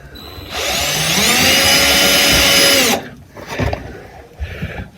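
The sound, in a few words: power drill drilling into an anchor stake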